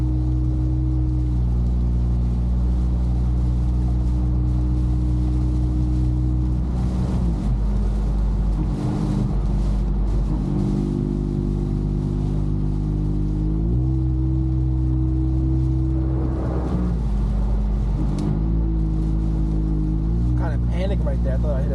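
A catless Toyota Camry drives through rainy New York City traffic, its loud droning engine rising and falling in pitch with gear changes, tire and rain wash swelling in bursts, with someone talking over it.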